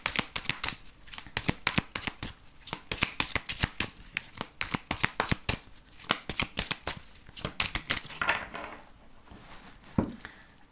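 Tarot cards being shuffled by hand, a fast, crisp run of close papery riffles and slaps that continues for about ten seconds and slows near the end.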